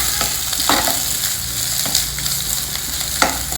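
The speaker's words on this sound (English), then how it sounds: "I am adding 2 chopped onions and we will fry this." Two chopped onions fry in hot oil in a pan for a South Indian gravy, giving a steady close sizzle with a few scraping stirs and no voices.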